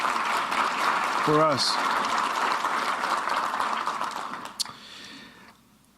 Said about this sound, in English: Please give him a round of applause for the excellent work he's doing